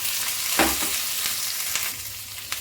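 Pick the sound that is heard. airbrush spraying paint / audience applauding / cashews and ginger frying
cashews and ginger frying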